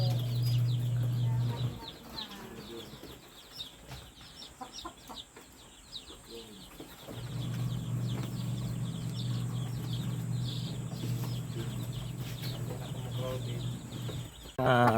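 Chickens cluck and chatter continuously in a flock, with a low steady hum underneath and occasional louder calls.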